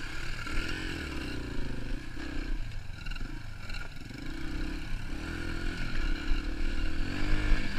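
A pit bike motorcycle engine revs nearby with a buzzy, high-pitched drone that rises and dips in pitch, steady and fairly loud throughout with slight clatter.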